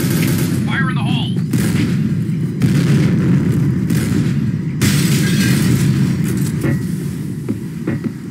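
A grenade goes off in the shooter game Point Blank as a loud, sustained boom and rumble, with rolling blast noise and crackle lasting several seconds at close range.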